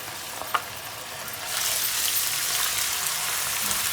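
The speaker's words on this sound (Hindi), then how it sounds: "यहाँ पर हमारा ऑयल गर्म हो चुका है। अब मैं इसके अंदर ये प्याज़ें शामिल कर देती हूँ सारी।" Onions are added to hot oil and fry with a soft, steady sizzle that swells after a brief clatter, heard close and fairly quiet with no talking.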